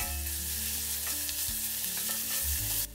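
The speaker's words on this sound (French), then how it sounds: "Quand l'huile est chaude, j'y mets l'ail et le gingembre." Garlic and ginger frying in hot oil in a saucepan over medium heat give a steady, close sizzle with occasional stirring scrapes, and no one talks.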